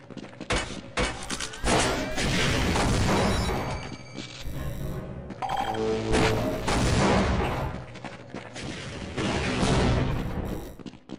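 Rocket explosions and heavy weapon fire in a Half-Life multiplayer shooter, a dense, loud barrage of booming blasts and crackling shots layered almost continuously with brief dips between bursts.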